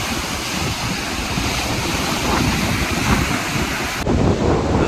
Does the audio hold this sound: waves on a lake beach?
yes